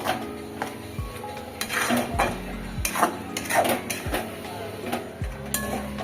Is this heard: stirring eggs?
yes